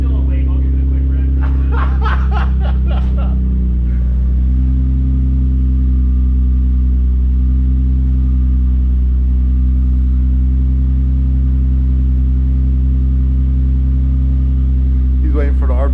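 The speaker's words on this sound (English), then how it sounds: "I'll give it a quick rev." An Infiniti Q50 engine drones at a loud, steady low pitch with a slight rise in revs, while laughter and brief talk come through early on.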